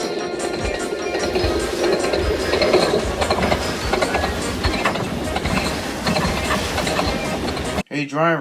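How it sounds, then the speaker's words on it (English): A runaway train rolls downhill at top speed after its coupling to the locomotive breaks, giving a loud, continuous rumble and clatter of wheels on rails, with a sharp break near the end. "And his train rolled down the hill at top speed."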